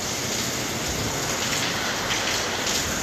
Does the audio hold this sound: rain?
yes